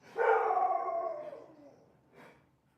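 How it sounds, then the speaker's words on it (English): A dog lets out a drawn-out howling bark lasting over a second, followed by a short softer yelp, moderately close in an otherwise quiet room. "can you hear the barking in the background?"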